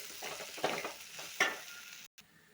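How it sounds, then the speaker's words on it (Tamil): Turkey berries with chili powder are sautéed in a pan for a curry, giving soft frying crackle with several sharper scrapes and clinks of a spoon stirring, close by and with no voices. "மிளகாய்த்தூள் போட்டு நல்லா வதக்கியாச்சு"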